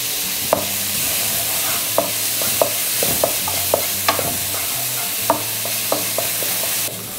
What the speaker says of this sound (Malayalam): നമുക്കിനി ഇതിന് ഉപ്പിട്ട് സോട്ട് ചെയ്തെടുക്കാം.